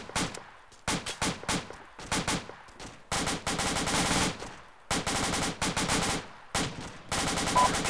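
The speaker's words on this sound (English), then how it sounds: "Keep firing, keep that fire up." Sustained automatic gunfire from a squad in a war video game, loud bursts of machine-gun fire in rapid rhythmic volleys separated by short pauses, close and continuous with no talk.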